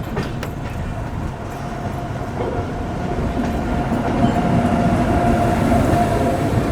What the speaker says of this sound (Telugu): ఈ పక్క నుంచే ట్రైన్ వస్తుంది